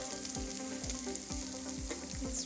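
Spaghetti stir fry with vegetables sizzles in a pan under a steady frying hiss, punctuated by regular low scraping thumps as it is stirred, close and continuous.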